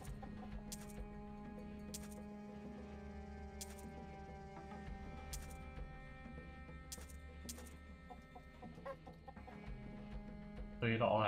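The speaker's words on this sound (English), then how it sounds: "This is a fucking chicken." A chicken clucks in a video game, its soft begawking mixed into steady game music and effects, with a few sharp chime-like hits recurring throughout.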